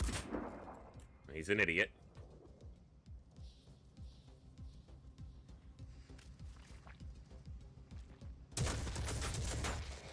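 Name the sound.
gunfire from a gunner in the video game Phoenix Point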